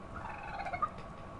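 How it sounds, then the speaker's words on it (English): Turkeys gobble in the video game Marvel's Avengers, a faint burst of warbling gobble calls over a low game background hum. "Turkeys that look like raccoons."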